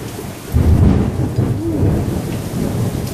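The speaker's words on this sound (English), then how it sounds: "Some close thunder there, close lightning." Close thunder rumbles loudly through a storm with rain falling, a heavy low boom swelling after a quiet start and rolling on steadily without any talk.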